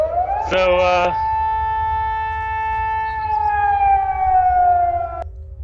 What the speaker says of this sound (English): That's more of a city alarm.